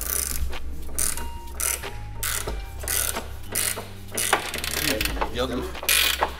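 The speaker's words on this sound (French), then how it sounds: "Je dévisse là." Ratchet wrench loosening a bolt on a rusty Nissan 350Z, a rapid metallic clicking in repeated bursts, close and fairly loud, with a low hum beneath and a brief spoken remark.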